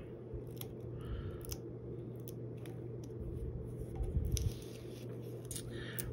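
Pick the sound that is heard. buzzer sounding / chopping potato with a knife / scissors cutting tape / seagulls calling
scissors cutting tape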